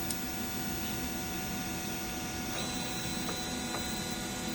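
A DTF printer runs its head cleaning cycle, giving a steady mechanical hum and whir with a few faint clicks, heard alone and fairly quiet.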